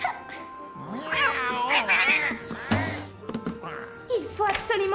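A cat yowls and meows repeatedly, loud and close, with drawn-out caterwauling cries mixed with excited voices.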